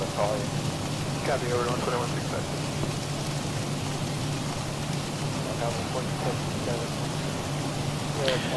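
Heavy simulated rain drums on a Zibo-mod airliner cockpit in the X-Plane 12 flight simulator, running on a home cockpit setup. The rain is a steady, dense hiss, with faint muffled voices briefly heard beneath it.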